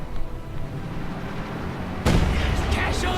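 Gunfire and explosions wipe out mortars in Company of Heroes 2, with a low rumbling barrage of artillery and scattered shots that breaks into a heavier, louder blast burst partway through.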